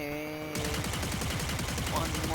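Rapid automatic gunfire in the video game Warframe, a dense, steady rattle of shots that starts abruptly and keeps on loud and close over a background game hum.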